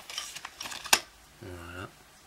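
Carbon fiber drone frame plates, matte carbon arms for a Lumenier RaceBlade, being unwrapped from packaging: rustling and crinkling with one sharp snap, then a short low hum, with a voice speaking nearby.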